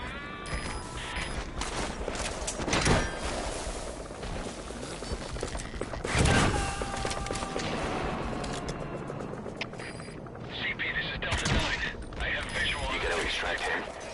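Gunfire in Metal Gear Solid V: The Phantom Pain, loud bursts and rattling volleys scattered through about fourteen seconds, mixed with game sounds and voices.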